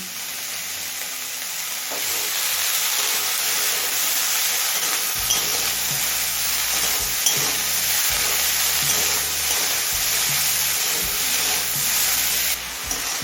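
Pumpkin with turmeric and salt sizzles steadily in a hot pan while cooking for matar dal, a continuous bright frying hiss with occasional stirring scrapes and clatters partway through.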